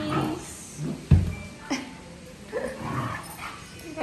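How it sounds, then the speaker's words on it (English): Small dogs yip and whimper in short bursts, with one sharp thump near the middle and faint background noise between the yelps. "There's Biss playing with two puppies."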